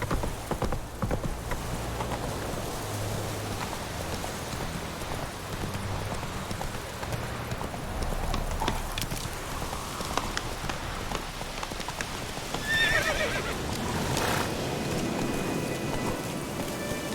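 Horse hooves clip-clopping steadily in The Witcher 3, mixed with rain patter and a soft game ambience throughout; no clear neigh stands out.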